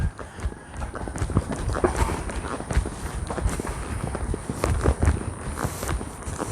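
Horses being ridden during a training session, with a steady run of irregular hoofbeats and footfalls across the whole stretch, moderately close, no talking over them.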